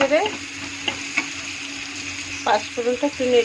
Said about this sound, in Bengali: একটু লাল লাল হয়ে পেঁয়াজটা, তখন আমি ওর মধ্যে 5 ফোড়ন দিয়ে দেব। 5 ফোড়নটা একটু নেড়ে